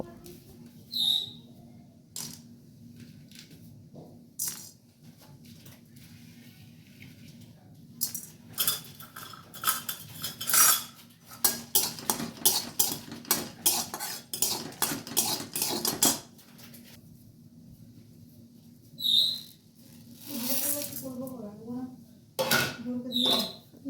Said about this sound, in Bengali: এগুলো আমি শুধু কড়াইয়ে ভেজে নেব